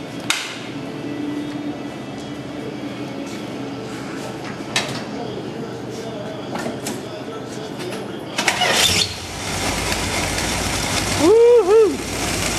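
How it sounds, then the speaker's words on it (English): A car engine cranks and turns over, then settles into a rough idle, with clatter and knocks earlier and a brief whoop of voices near the end. "Crank it up, Pete."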